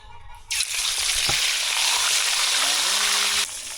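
A loud, sudden burst of hissing sizzle as fish hits hot oil, crackling steadily for a few seconds before easing off, close up.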